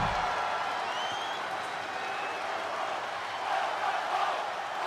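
Arena crowd in the WWE 2K23 wrestling game chanting and cheering a welcome home to Tomaso Ciampa at NXT, a steady distant roar of many voices with no clear rhythm.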